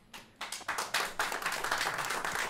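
Applause builds over a couple of seconds into steady, fairly light clapping from a small studio audience on a radio talk show, with no voices over it.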